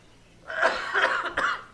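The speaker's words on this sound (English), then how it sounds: "And again, I cough." A few rough coughs close to the mic, in quick succession over about a second, fairly loud and with no talking.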